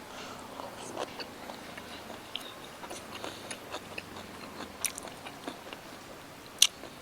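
Squid dipped in spicy sauce being chewed close up, with a steady series of soft wet bites and crunchy chewing clicks, one sharper click near the end, over a quiet background.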